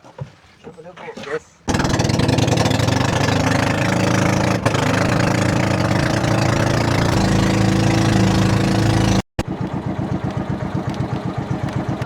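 A motor boat engine drones loudly and steadily for most of the clip on the way to White Island off Camiguin, with a brief cut near the end before it chugs on.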